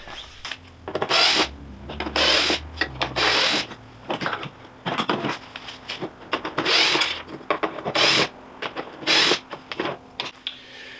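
Small screws being backed out of the fog lamps on a Jeep Gladiator bumper with a ratcheting tool, giving bursts of close, clicking ratchet and rattling mechanical sounds with short pauses between them.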